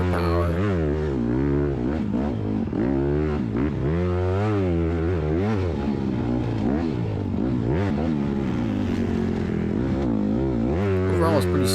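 Honda CRF150R supermini dirt bike racing off-road on a motocross track, its engine revving and shifting pitch continuously up close, with a voice talking over it throughout.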